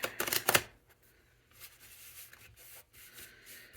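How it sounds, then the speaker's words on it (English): A deck of tarot cards is shuffled in a quick burst of close, crisp riffling at the start, then gives way to soft, faint rubbing and handling sounds. "we're gonna do a quick little shuffle"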